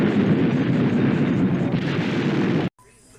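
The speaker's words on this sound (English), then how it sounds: "the car goes on fire, and you get to see this big explosion as seen here" A loud, roaring car explosion in the 1971 film H-Bomb that rumbles steadily for a few seconds, then cuts off abruptly to near quiet.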